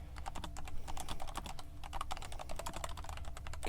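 Keyboard typing for note-taking in a whispered nurse roleplay, a close, steady run of rapid clicking keystrokes continuing throughout with no voice.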